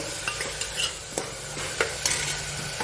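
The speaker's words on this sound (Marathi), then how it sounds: "जरासं आपण हलवून घेऊ" Cabbage rice with chili powder and turmeric being stirred in a pan: a sizzle beneath a series of close spoon scrapes and taps on the pan, recurring roughly every half second.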